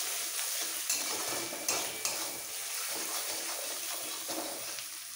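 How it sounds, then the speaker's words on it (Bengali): Spices and Kashmiri red chili powder stir-fried in a pan for pav bhaji: a continuous soft sizzle with repeated scraping strokes of a spoon against the pan, fairly quiet. "এবার একটু কষিয়ে নেব।"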